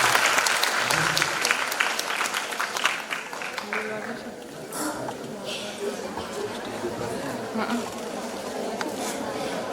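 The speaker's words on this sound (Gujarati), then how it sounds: "આપણે સૌ તાળીઓના ગડગડાટ સાથે એમને આમંત્રિત કરીએ" An audience at a lecture event bursts into brisk, dense applause to welcome a speaker to the stage. The clapping fades over several seconds into scattered claps and low chatter.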